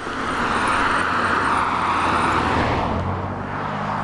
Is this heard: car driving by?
yes